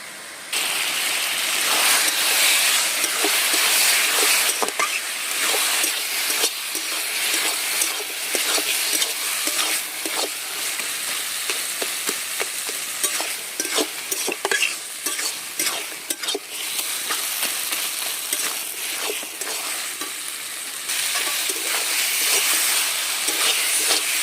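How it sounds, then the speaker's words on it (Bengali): Fried hilsa fish head and grated coconut being stirred into taro greens in a hot pan, a steady close sizzle of frying under continuous scraping and stirring strokes, with no talking. "এবারে দিয়ে দেবো ভেজে রাখা ইলিশ মাছের মাথা এখন আমি এর মধ্যে আগে থেকে কোরানো নারকেলটা দিয়ে দেবো"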